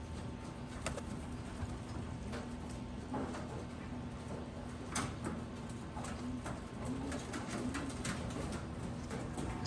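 Racing homing pigeons cooing softly in a loft, low repeated coos over a constant background hum with scattered light taps and shuffling.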